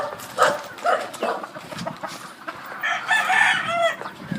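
Roosters at a gamefowl farm crow and cluck close by, the calls overlapping in bursts, and a dog barks faintly in the background.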